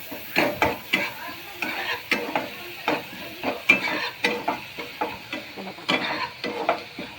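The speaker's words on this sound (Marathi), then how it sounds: "कांदा टोमॅटो चांगला भाजायला आहे. कोकम टाकून घेऊया." Onion and tomato fry with kokum in a pan for a kuldyachi pithi dish, rhythmic stirring scrapes repeating over a continuous close sizzle.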